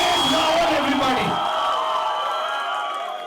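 Audience cheering and clapping at a Thamma film event, a loud crowd roar with whoops that swells at first and then settles into steady applause.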